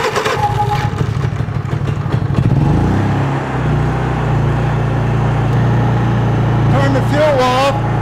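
A Honda EU3000IS generator, just serviced after not running, is cranked and catches, settling into a steady mid-pitched running hum; someone talks over the pull-start and early running.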